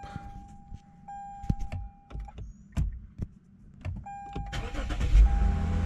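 A Lexus IS 250/350 being started in a garage during a brake and rotor job, with clicks and a whine from the ignition before the engine catches and settles into a low, steady run up close.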